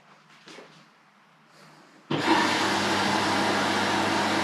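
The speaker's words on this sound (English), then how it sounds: "Now the wash cycle has started and water is entering the washing machine." A washing machine begins its wash cycle and water rushes in: quiet faint clicks, then a sudden loud steady hissing inflow that holds evenly to the end, with no talk.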